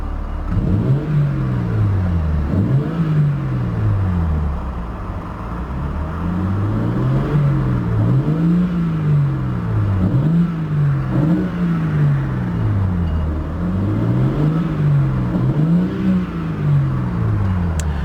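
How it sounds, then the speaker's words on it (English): A 2021 BMW M4 Competition with sports exhaust activated revs repeatedly in a steady rhythm, deep and throaty, each blip rising and falling, loud and close with no voices. "Let's go ahead and activate the sports exhaust."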